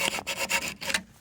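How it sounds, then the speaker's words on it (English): Sandpaper rubbed by hand over rough, freshly miter-cut wooden porch spindles, a close rasping scrape in several quick back-and-forth strokes with brief pauses between them. "So I'm going to take a piece of sandpaper and just kind of,"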